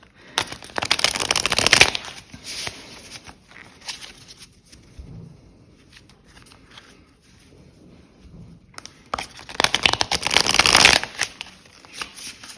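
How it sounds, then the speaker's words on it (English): A honey and lavender tarot deck is riffle-shuffled in two bursts of crisp, rapid card flutter, close and loud, with a quieter stretch of light card handling between them. "Let's shuffle it first."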